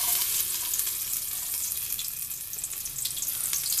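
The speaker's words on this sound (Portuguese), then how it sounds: "O alho já está fritando." Loud, steady sizzling of garlic frying in hot oil in a pressure cooker, a continuous crackling hiss heard up close with no talking.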